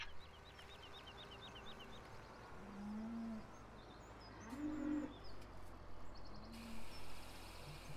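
Cows mooing in a pasture in the Farming Simulator 17 game, a few low moos heard at a distance over a steady ambient background with bird chirps and cooing.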